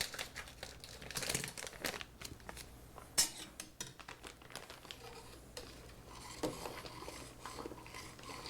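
Corner snipped off a packet while home-brewing an Oktoberfest beer, with crinkling plastic, scissor snips and clattering handling noises in a close, busy sequence of irregular crackles and clicks.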